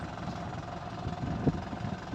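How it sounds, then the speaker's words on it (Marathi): A Mahindra 575 DI Sarpanch tractor runs at a steady idle-like chug, driving a pressure sprayer that applies herbicide on a farm, a close, continuous mid-low drone with a small knock partway through. "575 DI सरपंच ट्रॅक्टर त्याला जोडलेला आहे आणि हे आता तणनाशक शिपत आहे"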